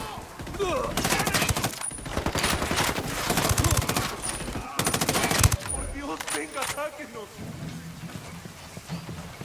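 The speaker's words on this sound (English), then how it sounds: "Opening fire on these fuckers." Automatic gunfire in the tactical shooter Ghost Recon Wildlands, sustained rapid bursts with short gaps, loud and close, and in-game voices talking partway through.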